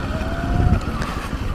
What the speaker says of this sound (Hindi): मैं इधर पार्क कर देता हूँ मेरा बाइक